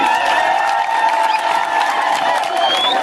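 A crowd at a Kenyan gathering claps and cheers in steady, dense applause that holds at an even level throughout, with whistles and raised voices mixed into the din.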